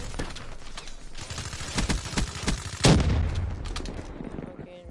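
Gunfire in the Black Ops 3 video game, with a burst of shots around a loud central blast over steady in-game noise, while a player's voice is heard faintly.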